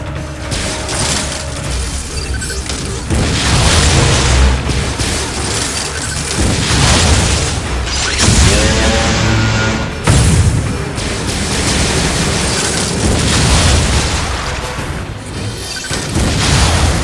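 Missile blasts from Metroid Other M come as repeated heavy booms and crashes with mechanical clanking, loud and dense throughout, laid over busy game sound with no speech.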